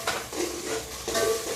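Green chilies and red chili powder fry in oil in a pan for a moong dal pakoda curry, with soft sizzling and intermittent scraping stirs, close and fairly quiet, with no talking.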